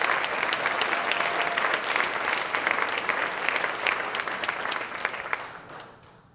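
Applause for sponsors at the City of Destiny awards ceremony, a full crowd clapping steadily and fairly loud, with crisp individual claps throughout before it tapers off quickly at the end.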